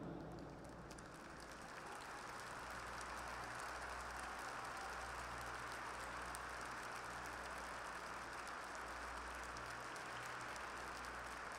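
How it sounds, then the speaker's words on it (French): A large audience at a Hermès CSI 5* show jumping event in the Grand Palais applauds in a steady, dense wash of clapping that continues unbroken for over ten seconds, with a low hum underneath. "Et puisque vous êtes tous en train d'applaudir,"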